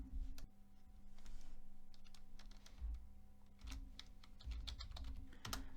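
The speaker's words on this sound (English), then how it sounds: "we have to type" Code being typed on a computer keyboard, faint, quick irregular key clicks in short clusters with a few louder thumps, over a steady low hum, no talking.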